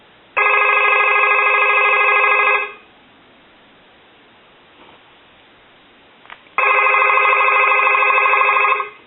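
A SofTel TeleQuest telephone gives two loud, close electronic ring bursts, each about two and a half seconds long, separated by several seconds of near silence.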